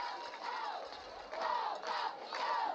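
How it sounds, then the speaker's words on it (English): The Los Fresnos home crowd roars at a high school area-round football championship, a distant, faint mass of cheering and chanted yells swelling in repeated waves. "the home crowd of Los Fresnos making some noise"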